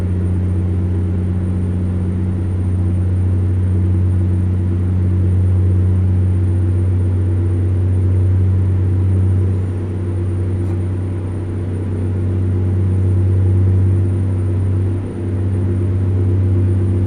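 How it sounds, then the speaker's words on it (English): A heavy truck engine in American Truck Simulator, on a run down the I-25, drones as a steady low rumble that builds slightly as the revs climb back up after slowing in too low a gear, with no voices over it. "Now we can hear the RPMs climbing back up."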